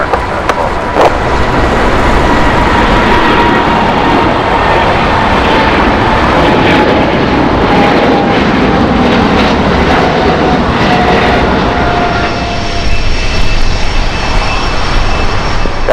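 An American Airlines Boeing 777 jet takes off at LAX, its engines a loud, sustained roar with a rising whine and broadband rush that stays strong throughout and shifts slightly in pitch near the end.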